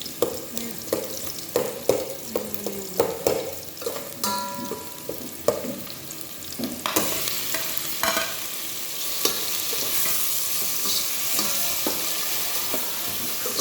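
Onion, ginger and tomato sautéing in a pan for salmon belly sinigang, with repeated close scraping stirs over a sizzle that grows into a loud, steady hiss as the tomato goes in.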